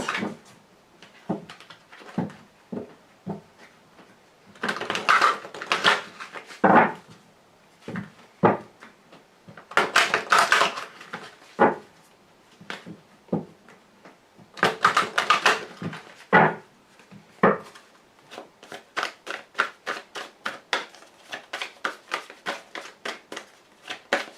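Cards from a Lenormand deck being drawn and shuffled, a run of sharp papery snaps and flicks in uneven bursts, with quicker riffling clusters toward the end, close and clear with no talk.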